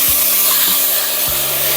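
Water splashes into ginger-garlic paste and spices frying in a pan, setting off a loud, steady hiss that holds for under two seconds, with a few soft knocks underneath.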